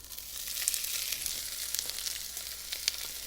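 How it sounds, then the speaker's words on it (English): Tilapia fillet sizzles steadily in a hot pan, a close, crackling hiss with small pops and spits throughout. "You can hear the sizzle, that means it's hot, which is what we want it."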